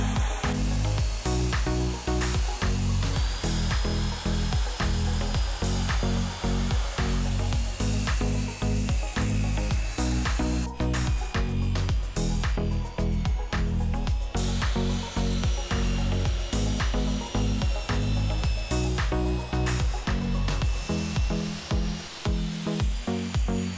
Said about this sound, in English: I'm going to start by cutting that down to a manageable size with a circular saw